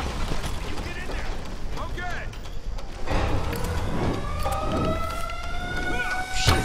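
In Tomb Raider Definitive Edition, an ambulance siren wails and sweeps upward amid loud game noise and rumbling, with voices shouting over the mix.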